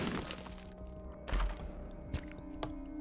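A bomb going off in The Binding of Isaac, a sharp booming crack with a thud, set against a steady tonal game music bed, followed by a couple of smaller impact hits.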